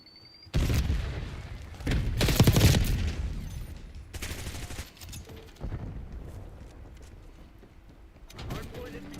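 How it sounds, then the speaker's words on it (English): Semtex sticky grenade thrown and detonating during a Hardpoint match in Call of Duty Black Ops 6, with loud booming blasts and bursts of gunfire through the round and faint game voice callouts in the mix. "Throwing Semtex."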